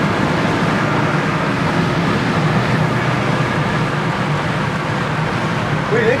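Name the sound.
1965 Pontiac GTO accelerating with transmission kick-down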